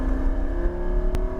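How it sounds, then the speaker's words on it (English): A Lamborghini Huracan Evo accelerates on a racetrack during a track day, giving a steady, close engine drone with a sustained tonal whine and one brief sharp click near the end, with no speech. "Get that wheel straight and accelerate all the way to the red cones."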